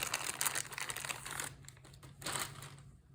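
A transparent plastic bag around a new Panasonic pocket radio crinkles as it is handled, two bursts of close, crisp rustling separated by a quieter pause.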